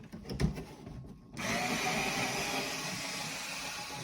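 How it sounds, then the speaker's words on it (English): A power tool drives screws out of the AC housing of a Volkswagen Vanagon, with a few clicks and handling noise first, then a steady whirring buzz that holds at a constant level until the end. "removing all the screws to open this up to get to the motor and blower"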